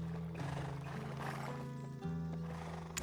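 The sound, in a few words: horse neighing at a stable in Black Desert video game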